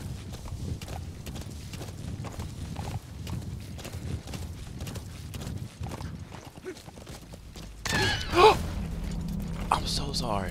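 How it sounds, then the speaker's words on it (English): Hooves of a big horse clip-clop in Metal Gear Solid V: The Phantom Pain, a steady rhythmic trot running under game sounds, with a louder burst of activity near the end. "It's a big ass horse."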